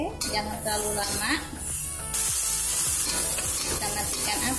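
Bean sprouts and salted fish sizzle in a hot pan while being stirred, a steady crackling fry broken by scrapes and clinks of the utensil, with a voice talking over it.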